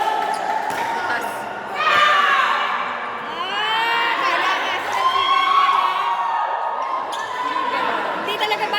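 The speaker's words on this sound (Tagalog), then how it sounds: "Palakas ang sigawan." Spectators at a basketball game shout, whoop and cheer loudly, with excited voices rising in waves over bouncing balls and general crowd noise.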